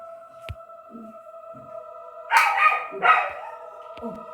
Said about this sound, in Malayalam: ഈ പട്ടി കുറെ നേരമായി കുരയ്ക്കുന്നു.